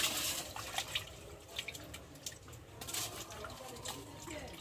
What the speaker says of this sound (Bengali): চলো এখন মাছটা আমি ধুয়ে